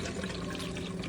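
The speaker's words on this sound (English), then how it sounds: "All right, putting regular tap water in here." Tap water pours steadily into a filter pitcher, a close, continuous gush and splash.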